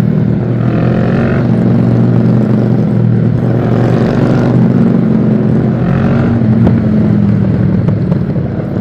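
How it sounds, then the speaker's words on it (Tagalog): A Harley-Davidson motorcycle riding alongside on the road gives off a steady, loud, low engine rumble that runs the whole time and is mixed with wind and road noise, with no one speaking. "Kung naririnig nyo guys yung tunog ng Harley"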